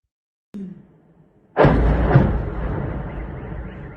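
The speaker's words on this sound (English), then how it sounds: "Massive explosion again." A drone strike explosion in Ukraine war footage: a small thud, then a sudden loud, close blast that rolls into a long, slowly fading rumble.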